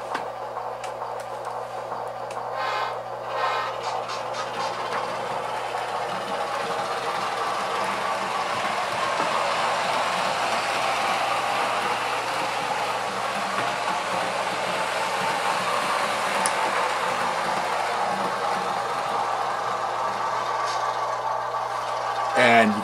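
Continuous rumbling engine sound from a Tsunami DCC sound decoder in an HO model train locomotive, steady and fairly loud, with a low hum and brief clicking at the start and end.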